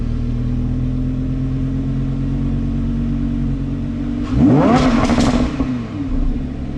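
A Lamborghini Huracan LP580-2 drones along steadily, then its wheels break loose in fourth gear as the engine surges into a loud, rising rev with rattling clatter, easing back after a couple of seconds.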